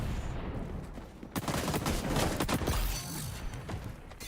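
Rapid bursts of automatic gunfire in the XDefiant shooter game, a dense sustained fusillade of loud overlapping shots across the whole stretch with no talking.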